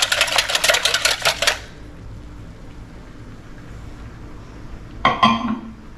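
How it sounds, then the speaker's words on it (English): A whisk clatters rapidly against a pot of homemade pudding mixture for banana cream pie, a loud burst of fast metallic scraping and clicking, then quiet, then a second short burst. "So give it a good whisk."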